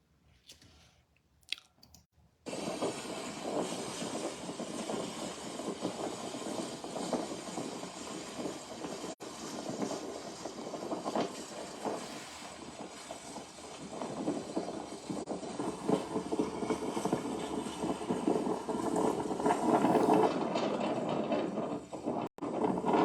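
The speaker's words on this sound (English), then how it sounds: "That's the wind" Steady, loud wind roaring and buffeting for most of the stretch, broadband and continuous, after a brief quiet start.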